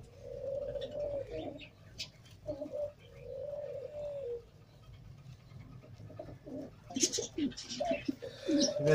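Teddy pigeons in Pakistan coo softly at close range in repeated low, drawn-out calls, with light rustling and a few brief sharper noises near the end.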